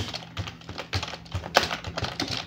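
Keys clack on a computer keyboard in a quick, uneven run of taps, close and fairly quiet, while a terminal command is typed in Kali Linux.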